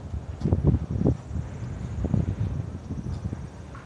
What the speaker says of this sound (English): It's the wind, that's why I'm not talking.